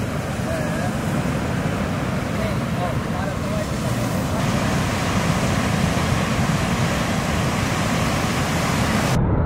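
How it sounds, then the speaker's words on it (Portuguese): Heavy ocean surf at a Brazilian surf spot roars as a loud, dense wash of breaking water and wind noise, constant and close, with a voice faintly present beneath it. "Aí, o mar tá gigante"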